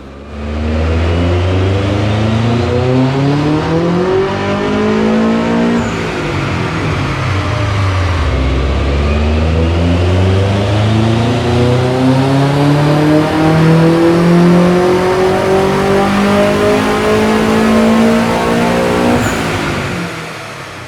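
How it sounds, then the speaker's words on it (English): A Subaru WRX STI running Syvecs anti-lag revs hard and repeatedly, its loud, close engine note rising and falling in long sweeps, with no one talking. "Big Dave's STI is in getting the anti-lag tweaked"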